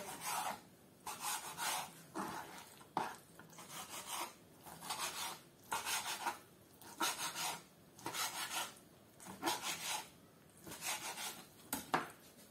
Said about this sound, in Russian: Горбушу нарезаем не очень мелко